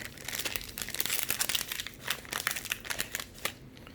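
A 2019-20 Panini Contenders basketball hanger pack wrapper crinkles and tears open, with continuous close plastic crackling and rustling throughout.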